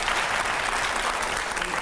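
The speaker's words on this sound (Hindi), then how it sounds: "पहले तो जोरदार इसके लिए तालियां होनी चाहिए" An audience at a televised editors' interview with Uma Bharti bursts into dense, sustained applause, a thick wash of many hands clapping at once, loud and continuous throughout the short burst.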